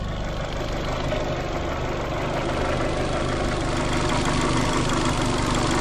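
A Fiat Panda 100hp engine idles steadily at close range, a continuous mid-to-low mechanical hum with a faint rhythmic tick running under it and no talking.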